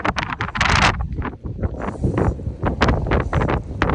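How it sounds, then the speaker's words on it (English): Strong wind buffets a microphone outdoors on a dusty road trip through the American Southwest, a loud rumbling roar with gusty swells that nearly swamps the setting, no voices in the gap. "I don't even know if you guys can even hear me with this wind."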